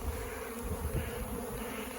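A steady, close buzzing drone of many calm honey bees in a nuc hive box, continuous and moderately quiet, with no voices.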